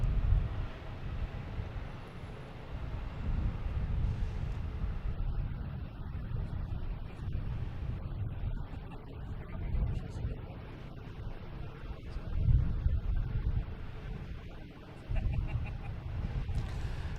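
A JetBlue airliner on approach to land at Boston Logan Airport makes a distant, steady low rumble that swells slightly and fades, with light wind noise throughout.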